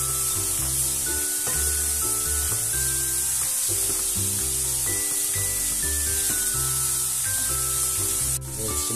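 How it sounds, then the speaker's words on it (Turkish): Lamb neck, vegetables and peppers sautéing in a pan, with a steady loud sizzle and occasional stirring scrapes running continuously under background music, close up. "Bunları da kavurmaya devam edeceğiz. Ardından biberlerimizi de koyalım."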